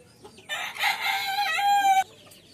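Fancy chickens and roosters, including bantam breeds, crow and cluck; one loud, close rooster crow rises and stretches out for about a second and a half over quiet background clucking, then cuts off.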